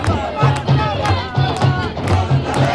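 A large crowd chants political slogans against the Prime Minister and Home Minister in a steady rhythmic cadence, loud massed voices repeating short phrases with regular beats over constant crowd noise.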